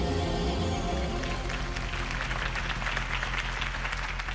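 In a video game, a crowd claps and applauds steadily after a campaign speech, rising into dense, continuous clapping that fills the whole stretch.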